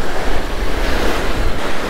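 Ocean waves break and wash onto a beach in a loud, continuous roar of surf mixed with gusty wind buffeting the microphone, with no voices.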